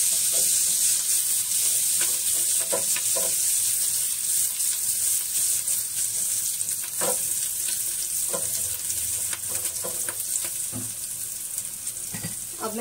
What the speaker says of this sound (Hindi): ये हमारा दाल का तड़का बन रहा है